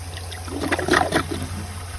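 A 1953 Gerber Arlington toilet flushes in a short, close gurgling rush of water that swells and then tapers off within a couple of seconds.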